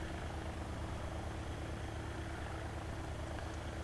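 A helicopter engine in a flight simulator video game drones as a steady, even hum and whine at moderate level, with no talking.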